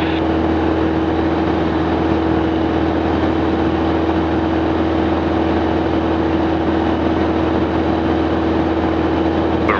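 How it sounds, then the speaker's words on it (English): A light aircraft's piston engine drones steadily at climb power at 2,400 RPM, a loud, constant close-up hum with a sharp tonal line that holds unchanged throughout and no talk over it. "Engine is still running smooth."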